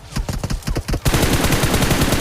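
Rapid automatic gunfire in the mobile battle royale game BGMI, a dense loud close burst of shots that grows heavier and continuous partway through.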